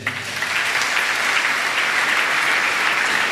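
A church congregation breaks into applause, a dense, sustained wash of clapping that swells within the first half second and holds loud and steady to the end, with no speech over it.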